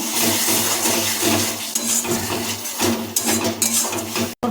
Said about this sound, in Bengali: এটা খুনতে ভালোভাবে নাড়িয়ে নেব